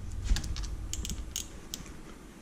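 Small creaks and clicks as a Risoma Sport Line grip is tightened on a Ducati Monster S4R handlebar, a few sparse, close mechanical ticks over quiet background.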